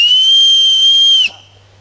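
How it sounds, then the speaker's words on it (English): A white oak acorn cap blown as a whistle gives one loud, piercing, steady shrill tone lasting just over a second, then breaks off abruptly, heard close and alone. "You take the white oak acorn cap, and if it'll work right, if I can hold it right without blowing dirt up my nose, make a whistle out of it"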